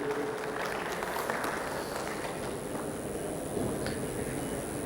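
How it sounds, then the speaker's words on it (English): A seminar audience applauds a student, producing a faint, distant patter of claps that stays low and steady throughout. "Big round of applause for this boy, Nilesh."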